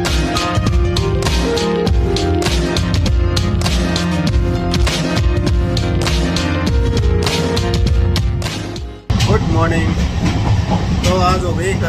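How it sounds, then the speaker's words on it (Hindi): A running train, the 09715 Der ka Balaji to Tirupati special express, clatters loudly and continuously beneath voices, with a brief dip in sound before the rumble resumes. "और हम सफ़र कर रहे हैं 9715 देर का Balaji to Tirupati special express में।"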